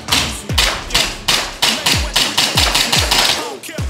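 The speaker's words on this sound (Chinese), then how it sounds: "好，一样射气球哈。" Airsoft gun fired at balloons in a studio, about ten sharp shots in a quick, fairly even rhythm, each a loud close crack with a short thud.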